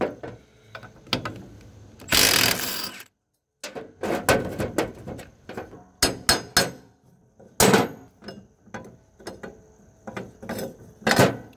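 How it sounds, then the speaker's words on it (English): A 3/4 inch socket taking a bolt out of a snow blower mule drive on a Case Ingersoll tractor, heard as close, irregular metallic clanks, clicks and knocks with a brief silent gap. "you're going to take this bolt out of here, just 3/4 inch socket"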